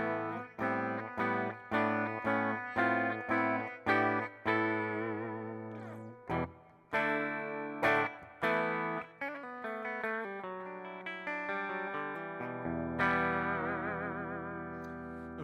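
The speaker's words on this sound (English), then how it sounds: "So I'm going to play my clean tone here." An electric guitar plays in a clean tone on the bridge pickup through a Mr. Black Thunderclaw pedal set like a Fender Twin, with picked notes and chords ringing out clearly, ending on a sustained chord.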